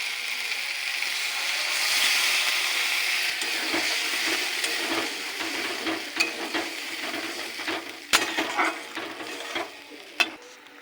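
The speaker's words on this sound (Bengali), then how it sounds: "মশলা ভালো করে কষে তেল ছেড়ে এসছে এবার দিয়ে দেবো জল" A masala of spices and a little sugar, fried until the oil separates, hisses and bubbles in a pan while a spoon stirs and scrapes with occasional sharp clinks. No one speaks.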